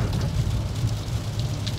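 Heavy rain pours steadily on a vehicle driving through a thunderstorm on a storm chase, a dense continuous patter with a low rumble underneath.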